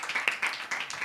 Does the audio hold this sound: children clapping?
yes